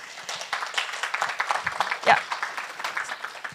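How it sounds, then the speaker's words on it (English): Scattered applause from a modest conference audience greeting the next two speakers, individual claps audible in an uneven patter, with a brief voice breaking in partway through. "And a round of applause, please, everyone."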